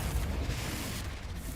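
The Confringo blasting spell exploding in the video game Hogwarts Legacy, a deep booming rumble that lands at once and then fades over a second or so, with no voices.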